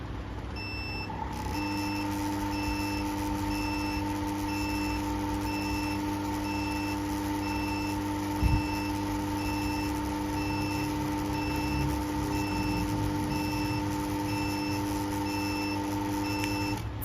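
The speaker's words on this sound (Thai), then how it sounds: "ไฟหัวเสานี้จะส่งสัญญาณจนกว่าจะครบ 2 นาทีหลังจากมอเตอร์หยุดทำงานนะคะ" Repeated electronic warning beeps from a gate post light wired to an ARROWO 1000 AC gate motor, steady and evenly spaced over a constant hum, continuing alone throughout with no talk.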